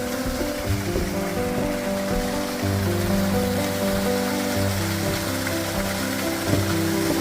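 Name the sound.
waterfall in a birch forest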